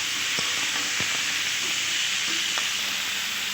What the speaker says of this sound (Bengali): ভেজে রাখা আলু আর ওলকচু দিয়ে আরও কিছুক্ষণ ভালোভাবে নেড়ে চেড়ে